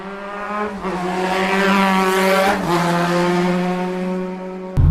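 A 2007 Honda Hornet 600 motorcycle engine drones loudly and steadily as the bike rides off, its pitch rising and falling through gear changes, heard close with no talk.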